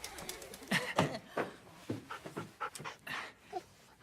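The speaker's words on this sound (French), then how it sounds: "je vous présente Harley, mon chien" Harley, a mixed-breed dog, pants close by in quick, uneven breaths over a few seconds, moderately loud with no talk.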